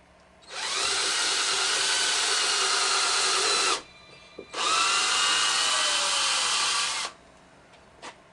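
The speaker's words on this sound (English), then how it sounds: "just go ahead and drill right into the corner." A power drill bores into a metal corner brace on a homemade metal dance pad, in two long, loud, steady whirring bursts of about three seconds each, separated by a short pause with a small knock.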